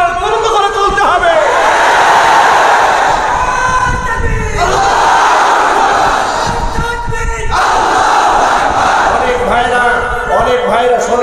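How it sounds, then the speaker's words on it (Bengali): A large crowd chants the slogan Nara-e-Takbir Allahu Akbar at a Friday Jumu'ah sermon gathering, loud and sustained, surging in repeated waves of massed voices. "অনেক মুসলমানরা এই নারায়ে তাকবীর আল্লাহু আকবার এই স্লোগানটা সহ্য করতে পারে না"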